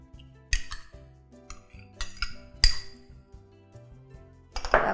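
A utensil clinks and taps against a bowl in irregular bursts as eggs are beaten for a fruit tart filling. The strokes are close and fairly loud, with quiet gaps between them and no speech.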